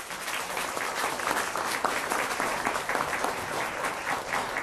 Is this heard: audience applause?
yes